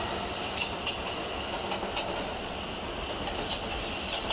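A train in the Roblox game Jailbreak rolls along with a continuous, dense rumble and faint rhythmic clatter, steady and fairly loud throughout with no talking.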